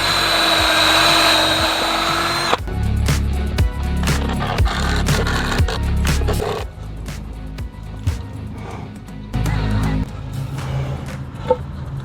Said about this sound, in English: I'm gonna drill this on.